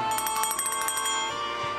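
A small bell rings with quick, repeated bright tinkling strikes for about a second, then trails off into a fading ringing tone over a quiet background.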